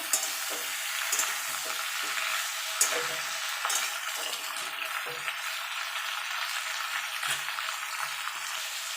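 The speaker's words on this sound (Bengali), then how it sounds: "এবার এই সবজিগুলো একটুখানি ভাজা ভাজা করে নেব।" Vegetables — radish, flat beans, ridge gourd and pumpkin — frying in a pan, a steady broad sizzle with soft stirring scrapes and clatters throughout, close and continuous with no voices.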